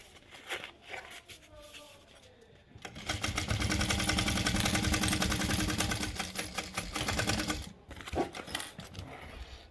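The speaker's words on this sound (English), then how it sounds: "I'm going to top stitch this side." A sewing machine topstitches a zipper pocket in one steady, rapid stitching burst for several seconds, preceded and followed by quiet handling noises and brief talk.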